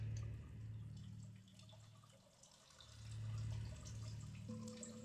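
Cave water in Sisyphus Reborn gives a quiet, steady trickle with faint drips, and a low ambient hum swells and fades beneath it. No one speaks.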